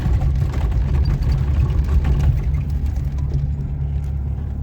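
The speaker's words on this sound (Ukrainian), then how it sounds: "Так, моторчик робить непогано." The engine of a cheap used car, an '09' model fitted to run on gas, idles in a steady low rumble and whir, close by and unbroken, with no talking.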